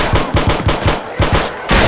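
Uzi gunfire in the video game 7 Days to Die rattles out in rapid bursts of close, loud shots with brief gaps between volleys, and no talk.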